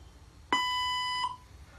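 A lone synthetic beep sounds from a robot translator awaiting speech, a bright steady tone with rich overtones lasting under a second, near and distinct over low background noise.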